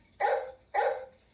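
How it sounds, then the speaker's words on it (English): Two short dog barks from a Hasbro Playskool Alphie robot toy, evenly spaced about half a second apart, close and clear with nothing else around them. "The dog sounds like"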